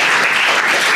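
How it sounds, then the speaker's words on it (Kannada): Loud, dense applause from an audience at a school farewell ceremony for a retiring teacher, a continuous wash of many hands clapping at close range. "ಜೋರಾದ ಚಪ್ಪಾಳೆಯೊಂದಿಗೆ"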